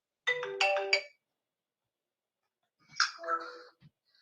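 A phone's ringtone plays two short melodic bursts separated by a pause of silence, each a bright chiming phrase, fairly close and clear with no talking.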